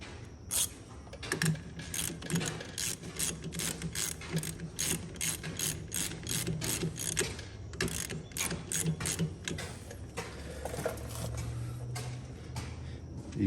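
A ratchet wrench tightens the nut on a hot water pressure washer's unloader, with rapid, close clicking bursts in uneven runs and brief pauses between strokes.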